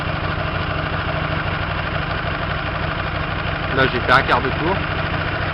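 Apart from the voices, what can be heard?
Hyosung 125 GTR motorcycle engine idling during mixture adjustment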